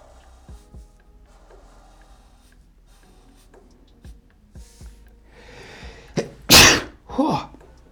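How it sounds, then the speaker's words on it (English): Quiet tapping and small noises lead into a sharp, loud sneeze near the end, preceded by a short inhale and followed by a brief exhale. "That was a big sneeze"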